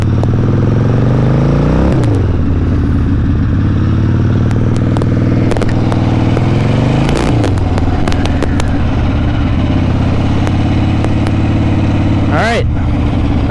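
An Ironhead motorcycle with a slipping clutch rumbles loudly and continuously through a test ride, its engine note rising and falling in several revving swells, with a voice talking over it.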